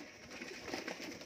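Pigeons kept as a Punjabi loft flock, including tournament-flown hens, coo softly and steadily in a short, quiet stretch with no talking.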